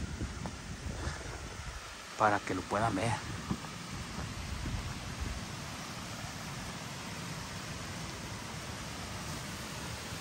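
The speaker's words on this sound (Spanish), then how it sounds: "Acá se escucha el arroyo grande." A large stream flows as a steady broadband rush that holds throughout, mixed with wind noise on the microphone, while someone speaks briefly over it.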